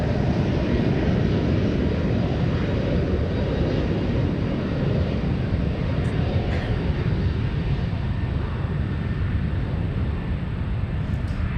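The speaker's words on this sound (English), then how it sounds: "United A321 Neo. Doing a turn and burn, I think." A United Airbus A321neo airliner departs from San Francisco's airport, its engine roar a steady, loud, broadband rumble that holds at full strength throughout with no break.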